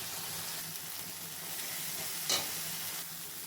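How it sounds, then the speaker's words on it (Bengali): A blended paste of cumin, ginger, garlic, onion and chili frying in a pan, a soft steady sizzle with one brief louder stir or scrape near the end, no voices. "মশলাগুলো কষে নেওয়া হয়ে গেছে।"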